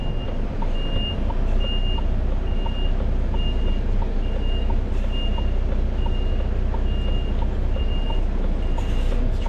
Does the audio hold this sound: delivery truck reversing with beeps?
yes